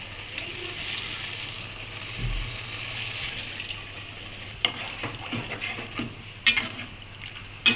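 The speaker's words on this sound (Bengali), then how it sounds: "একবার জল দিয়ে দিচ্ছি" Water poured into a pan of hilsa fish cooking in mustard paste hisses and bubbles against the hot oil, a soft steady sizzle followed by a few clinks and stirring sounds near the end.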